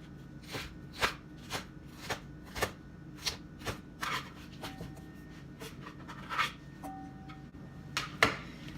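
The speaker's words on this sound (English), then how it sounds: "I'm gonna dice up a red bell pepper" A knife dices a red bell pepper into very small pieces on a cutting board, giving a steady series of sharp, close taps about twice a second, quiet and alone.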